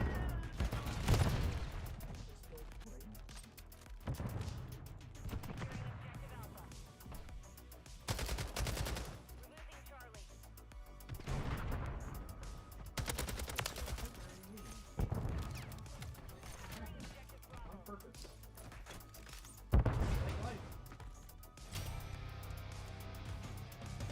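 Shotgun blasts from a Call of Duty game ring out in scattered, heavy bursts every few seconds, each a loud close boom trailing into quieter in-game noise and clatter.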